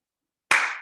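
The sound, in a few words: hand clap during yoga practice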